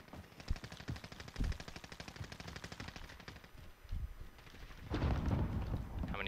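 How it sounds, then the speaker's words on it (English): Rapid automatic gunfire from the video game Call of Duty Warzone, bursts of repeated shots stretching across the whole stretch with a louder, denser volley near the end, no talking. "They're getting shot at by somebody."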